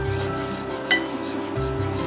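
A cornflour mixture is stirred in a pan of kulfi milk, producing soft scraping and rubbing of a spoon against metal with a faint clink in the middle, quiet and close, over a low steady background hum.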